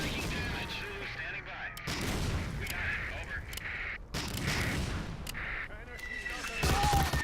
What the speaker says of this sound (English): It's very interesting how that artillery works